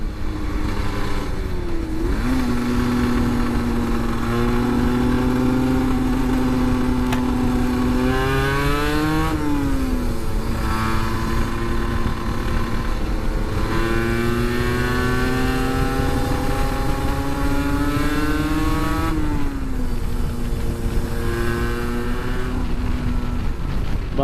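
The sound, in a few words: 125cc motorcycle riding, engine revving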